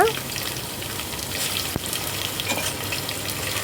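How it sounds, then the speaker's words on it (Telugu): Masala spice tempering fries in a pan for a curry, a steady close sizzle and crackle that continues throughout, with one small sharp tick partway through. "పోపంతా, మసాలా పోపంతా ఇలా ఫ్రై అయిన తర్వాత"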